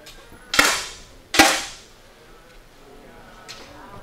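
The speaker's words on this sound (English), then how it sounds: "Great shot from Siddi" Two sharp, close 10m air rifle shots crack about a second apart during a men's final on a shooting range, each a brief snap with a short decay, followed by a fainter distant shot from another lane.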